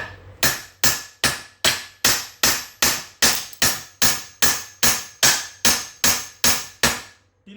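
Steady hammer blows strike a welded M12 stud on a workpiece, about fifteen sharp metallic hits at a regular rhythm, loud and close, with no talking.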